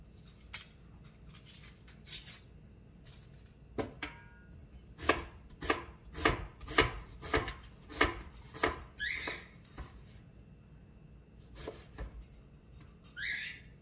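A knife slicing a large onion on a board for an oxtail tomato sauce, a run of about a dozen crisp, evenly spaced cuts with a few scattered taps around them, close and clear.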